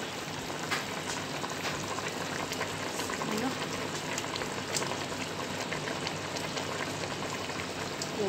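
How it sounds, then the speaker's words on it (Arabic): A Moroccan tajine sauce with peas and artichokes bubbles at a steady boil, a continuous soft crackle and patter of popping bubbles heard close and unchanging throughout. "غنخلوها تغلي واحد الغلية ونرجع معاكم"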